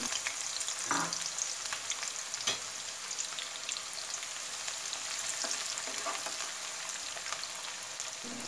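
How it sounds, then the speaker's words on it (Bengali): Chopped onion frying in a pan of regular cooking oil with a spoonful of ghee, a steady dense sizzle throughout with a few soft stirring knocks, close and fairly quiet. "পেঁয়াজ কুচি ভেজে ব্রাউন কালার যখন রং চলে আসছে"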